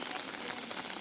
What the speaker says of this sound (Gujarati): ઈટાદરા ગામમાં જળબંબાકાર વરસાદ